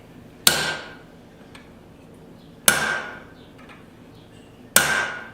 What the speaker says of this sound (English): Next heat I'm going to use a flat punch.